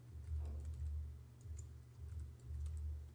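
Someone types a username and password on a computer keyboard, giving quiet, quick clusters of key clicks in short bursts in a quiet room.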